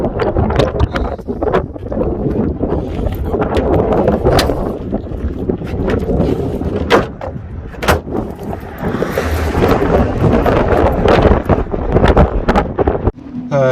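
Heavy, steady wind roar buffets the microphone of a BMW 330 Touring travelling at 60 mph with its bonnet flipped open, a loud continuous rushing with brief gusty thumps throughout.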